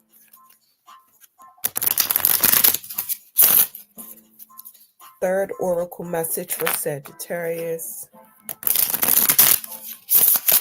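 Oracle cards shuffled in quick papery bursts, one early, a brief one soon after and a longer run near the end, with a person talking in between.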